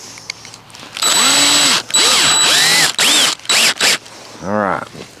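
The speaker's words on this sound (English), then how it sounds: "We're going to chuck in the drill." A power drill driving a soil sample tube into the ground whirs in several bursts, spinning up and winding down between pauses, loud and close, with a short low revving burst at the end.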